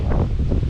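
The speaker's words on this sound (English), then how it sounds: "it's definitely windy" Strong wind gusting outdoors beside a garage, a continuous loud broadband roar with buffeting against the microphone and no voices.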